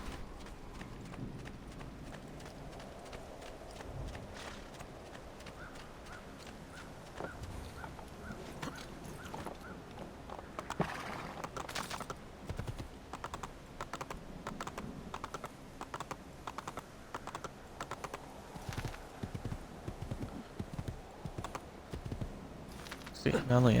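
Horse hooves clip-clop through the Assassin's Creed II video game, a steady rhythmic patter running throughout alongside clicky taps and game sounds, with a voice talking over parts of it.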